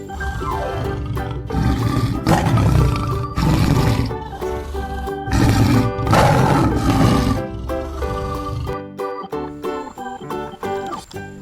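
A tiger gives deep, powerful roars in several loud bursts with short gaps between, set against a bright musical backing track that continues throughout.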